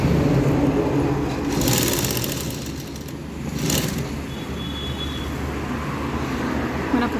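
A sewing machine fitted with a double presser foot stitches piping onto a blouse, a steady mechanical whirring hum close up with two louder bursts of rapid stitching clatter.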